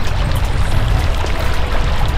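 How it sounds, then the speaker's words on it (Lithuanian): Decathlon ADVT 900 bags are dunked into water, a steady rushing, sloshing wash that stays loud and close throughout. "Kišam Decatlono ADVT 900 krepšius į vandenį"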